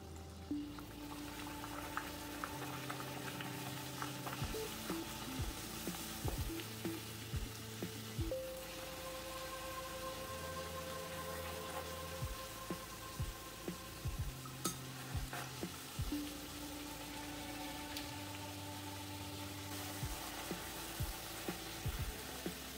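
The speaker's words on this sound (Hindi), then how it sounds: "पूरियों को तलने के लिए कढ़ाई में मैंने तेल गरम किया, इसमें डाल देंगे हमारी पूरियां।" Puris deep-frying in hot oil in a kadhai give a steady, close sizzle that runs the whole time, with stirring and oil being splashed over them, no one talking.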